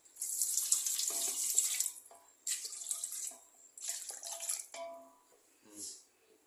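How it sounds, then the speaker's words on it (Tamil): Water pours into a cooking pot on a stove while making chicken biryani, heard as several close, loud splashing bursts separated by short pauses. "இப்போ இந்த மாதிரி கண்டிஷனில் தண்ணி ஒரு 750 ml ஆட் பண்ணிக்கலாம்."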